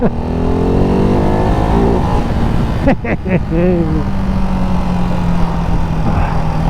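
A Ducati Hypermotard 698 Mono single-cylinder motorcycle engine on a test ride, loud and close, with rising harmonic revs, a brief shift dip near three seconds, then steady droning under wind rush and a voice speaking.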